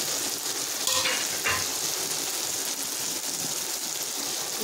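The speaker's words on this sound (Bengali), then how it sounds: "এবার আমি মটনের পিসগুলো দিয়ে দেবো।" Mutton pieces sizzle steadily after being added to a frying spice paste in hot oil, a continuous close hiss with a couple of brief stirring clatters near the start.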